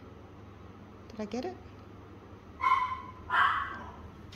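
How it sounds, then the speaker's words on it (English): A dog gives a few short barks in a home kitchen, two louder yips near the end following a brief spoken question, set against a low steady hum. "Excuse my dog's barking."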